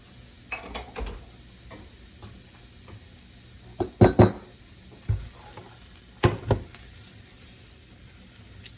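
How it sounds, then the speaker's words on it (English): Onions cooking in leftover grease in a pan: a soft steady sizzle under scattered metal scrapes and clinks of a utensil stirring against the pan, with a few sharper knocks. "What little bit of grease I got left in here, I'm gonna cook my onions in it."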